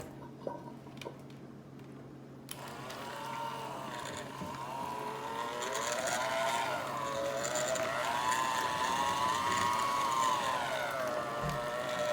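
An electric mixer whirs steadily and strains as it mixes cornbread batter, its motor pitch wavering under load. The mixer is close and loud.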